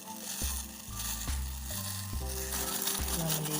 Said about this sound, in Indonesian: Kita didihkan terlebih dahulu.